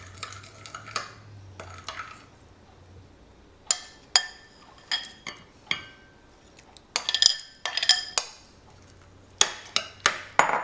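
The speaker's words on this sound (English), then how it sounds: "Mix it around, and then we add the mushrooms and tofu." A spoon stirring rice porridge with rice vinegar and soy sauce in a bowl or pot: irregular clinks and scrapes of metal on the dish, some in quick bursts, close and fairly loud, with a low hum underneath.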